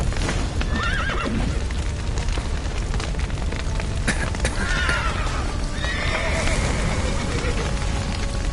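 In The Witcher 3 video game, a horse whinnies and neighs amid a loud, constant roaring din, with hooves clattering and agitated calls rising over the noise.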